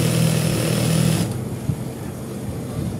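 A sewing machine runs steadily while stitching a second seam on the hems of ladies' trousers, then cuts off partway through, leaving a quieter hum.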